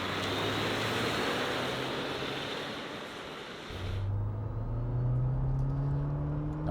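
A GWM Cannon Alpha PHEV ute accelerates hard up a steep hill while towing a heavy load, giving a loud, steady roar of engine and road noise with strong wind rush and a rising drone as it pulls, no voices.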